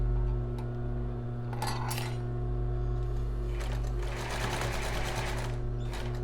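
A domestic sewing machine runs a straight stitch, fastening elastic bias binding onto a bra. It whirs steadily and close throughout, with a constant mechanical hum and some light clicks and rattles near the end.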